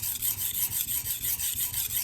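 A VG-10 steel Tojiro DP Santoku knife is sharpened on a 400-grit Super Vitrified diamond whetstone. Close, even, rhythmic rasping strokes repeat quickly back and forth, with no talking.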